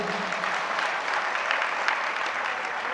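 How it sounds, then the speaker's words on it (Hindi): An audience at a Jain religious discourse bursts into applause, steady many-handed clapping that holds evenly for a few seconds, moderately loud with a faint murmur beneath. "तो जोरदार तालियां बजाओ फिर"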